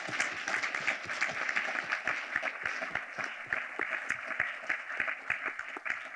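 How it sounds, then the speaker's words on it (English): An audience gives a warm round of applause for a panel at a wrap-up session, dense, even clapping with crisp individual claps throughout, moderately distant. "A warm hand of applause, please, for this panel."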